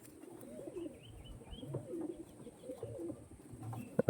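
Andhra Kalanka pigeons coo softly in low, rolling phrases, a faint, murmuring sound, with a brief sharper knock near the end.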